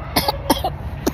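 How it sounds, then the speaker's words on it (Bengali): Three short, close coughs come in quick succession, a brief pair followed by one more after a short gap. "একটু কাশি হয়েছে আমাদের।"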